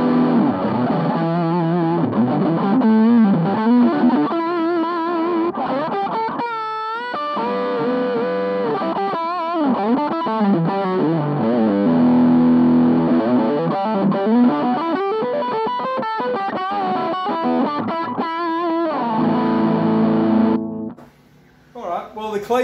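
An electric guitar plays through a small Orange PCC108 amp with a Rat distortion pedal, giving gritty, fuzzy chords and riffs with sustained notes, loud and close for about twenty seconds before cutting off.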